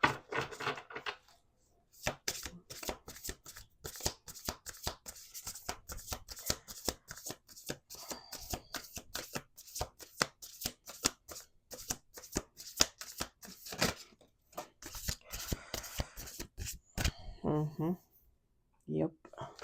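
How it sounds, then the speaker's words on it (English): Tarot cards are shuffled close by in long runs of rapid riffling and soft slaps, with brief pauses between bursts. "Let's do 2 more shuffles."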